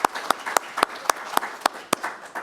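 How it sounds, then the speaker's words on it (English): An organization's gathering applauds its hard-working team, though the sound is mostly a single crisp, regular clap repeating about nine times at an even tempo, close and distinct over a faint wash of scattered clapping. "give everybody a round of applause for all of the work that they do for this"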